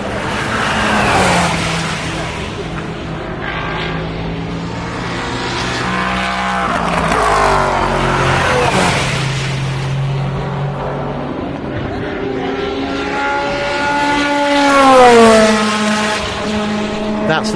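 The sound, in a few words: Toyota Le Mans race car passing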